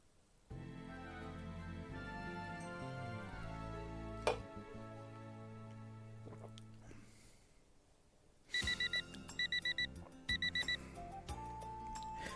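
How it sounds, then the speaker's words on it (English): An alarm clock in the visual novel game ToHeart goes off after soft background music fades, ringing in three quick clusters of repeated electronic beeps at a moderate level. "Turn off the alarm clock."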